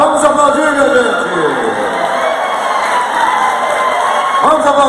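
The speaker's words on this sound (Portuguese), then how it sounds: "Vamos aplaudir, minha gente." Crowd at a sertanejo concert by a Brazilian country duo roars with cheering, whoops and shouts, a loud continuous din with some clapping mixed in, while a voice carries over it.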